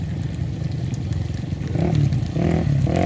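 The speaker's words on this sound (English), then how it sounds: "the other guy is on a dirt bike" A dirt bike engine on a desert hill in Arizona, a buzzing motor that grows louder and rises in pitch toward the end, heard from a short distance with wind noise.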